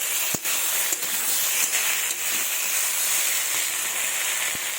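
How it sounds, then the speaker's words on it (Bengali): Chopped tomato in a pan for a rui fish curry tempered with black cumin, giving a steady, soft hiss of sizzling with a few faint clicks of stirring, no talking. "টমেটো কুচি দিয়ে দিলাম। এবার ভালোভাবে নেড়ে নেব।"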